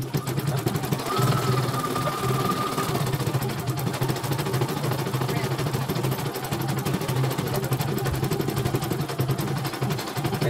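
An Elnoss embroidery machine runs at a repair shop, its rotary section working in a steady, dense mechanical chatter that stays loud and constant throughout, with faint talk underneath.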